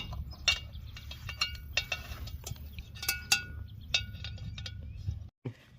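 A metal hook clinks and rattles against a Lodge 60-inch camp tripod for Dutch oven cooking, a run of sharp irregular metallic taps and ratchety clicks close by, no voices.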